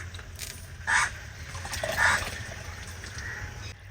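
Water is poured into tangar dal to make a gravy, a soft close trickle and splash with two brief brighter pours over low background hum, no talking.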